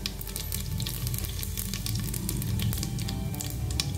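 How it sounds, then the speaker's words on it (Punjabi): Cumin seeds sizzling in hot oil in a pan for bajra khichdi, a steady close crackle and hiss that runs continuously with faint stirring underneath. "ਗਰਮ ਹੋਣ 'ਤੇ ਆਪਾਂ ਇਹਦੇ ਵਿੱਚ ਪਾ ਦਾਂਗੇ ਜੀਰਾ"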